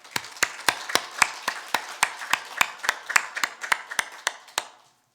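Church congregation at an Easter Sunday morning service claps in a steady unison rhythm, about eighteen sharp, evenly spaced claps over five seconds that then stop.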